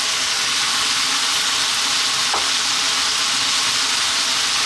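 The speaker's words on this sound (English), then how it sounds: "And now we're going to add the spinach." Chopped spinach fries in a pan for a creamy chicken pasta, with a loud, steady, close-up sizzle and hiss that holds evenly throughout.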